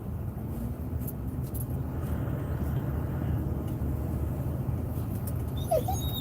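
A dog whimpers faintly inside a moving car, the steady low road and engine rumble dominating throughout, with a few brief high whines surfacing near the end.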